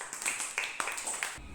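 Children in a classroom clap together in a short, brisk round of scattered claps lasting just over a second.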